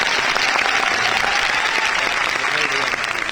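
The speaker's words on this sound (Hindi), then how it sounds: "जोरदार ताली दोस्तों" A large audience at a network marketing gathering in a Patna hall breaks into loud, sustained applause that stays dense and steady throughout, with crowd noise mixed in.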